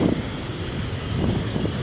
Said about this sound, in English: this aircraft, a 13-year-old 737-7H4, it is headed to New Orleans